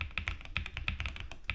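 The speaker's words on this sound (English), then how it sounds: "It does have a little click to it, but I like that deep-rooted click, click, click, kind of like the old IBM keyboards back in the 80s." Clicky keys on an RK Royal Kludge S98 keyboard are typed in a quick, uneven run of sharp clacks, close and crisp, with no voices.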